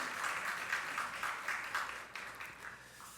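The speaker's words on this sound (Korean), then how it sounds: "다시 한번 박수 한번 해주실까요?" Church congregation clapping during a worship service, a steady moderate wash of applause with gently pulsing claps that slowly fades toward the end, no voices over it.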